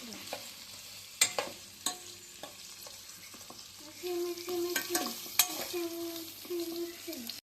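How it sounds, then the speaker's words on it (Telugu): Vegetables stir-fried in a pan for homemade kids' noodles, a steady sizzle broken by sharp clatters of the spatula against the pan that grow busier toward the end. "ఇప్పుడు ఫ్రై చేస్తున్నాం వెజ్జీస్ అన్ని"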